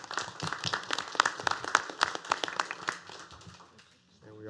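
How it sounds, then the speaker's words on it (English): A small audience at a county commissioners meeting claps, a sparse, moderately quiet patter of hands that thins out and fades before a voice resumes speaking. "let's give her a round of applause."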